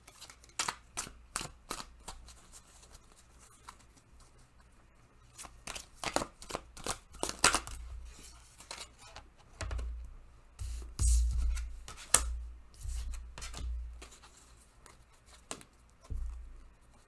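Tarot cards are shuffled close by in a quiet room, quick riffling bursts and soft slaps in uneven clusters, with low thumps of the deck being tapped and handled in the latter half.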